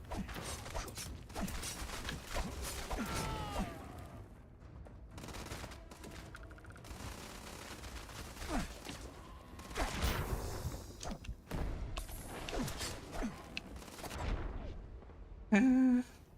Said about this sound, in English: The Bradley's gun is still pretty fucking beefy.